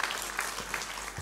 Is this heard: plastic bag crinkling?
no